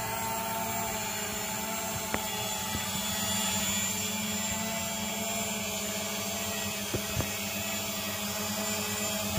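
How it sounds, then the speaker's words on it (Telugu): A hovering drone gives off a steady, even motor whine at moderate distance for the whole stretch, unbroken apart from a couple of faint clicks. "అయినా సరే డ్రోన్ అయితే ఫ్లై అవుతుంది"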